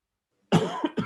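A close, sharp cough, followed by two quick, smaller coughs.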